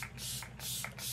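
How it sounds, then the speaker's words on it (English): Bursts of NYX Bear With Me setting spray misted onto a face at close range, three hissing sprays in quick succession with brief gaps, loud and alone with no talking. "we're going to spray my face with setting spray"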